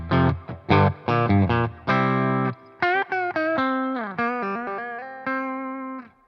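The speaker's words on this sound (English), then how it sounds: "Let's just hear the amp and guitar." An electric guitar plays straight into an amplifier with no pedal, first punchy chords, then ringing single notes and bends with a clean, sustained tone.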